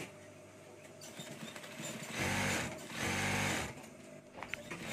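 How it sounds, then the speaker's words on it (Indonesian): A sewing machine topstitches two decorative rows on a lined jacket pocket, running in two close, loud bursts of rapid mechanical stitching separated by a short pause, with quiet handling before and after. "Selanjutnya kita tiban jahitannya ya teman-teman. Ini jahitan 2 baris untuk variasi jahitan di tengahnya."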